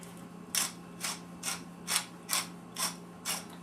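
Black pepper freshly ground with a hand pepper grinder over a pot of onion soup, heard as seven evenly spaced crunchy ratcheting twists, close and fairly quiet over a low steady hum.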